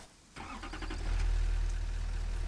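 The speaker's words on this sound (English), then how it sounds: "Look, it's a little old tractor." An old tractor engine in the factory-building game Satisfactory turns over with a sudden start, then settles into a low, throbbing idle that grows slightly louder and holds steady, close and alone.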